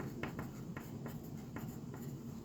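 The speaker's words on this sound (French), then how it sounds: "Donc, on va écrire la formule." Pen or marker strokes on paper or a board while a disc-area formula is written out by hand in a math lesson, giving a steady faint scratching with several short strokes over a low background hum.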